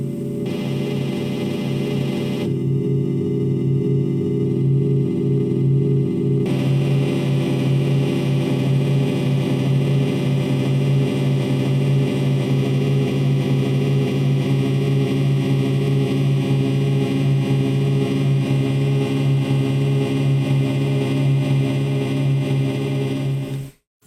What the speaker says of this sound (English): this is the sound where we're using triangles and we're changing triangle waves, and we're changing them kind of and positioning them around in a kind of circular space